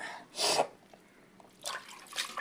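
Fresh coriander leaves are rinsed a second time in water in a home kitchen: two short bursts of splashing and swishing, close by and moderately loud, with a quiet pause between them.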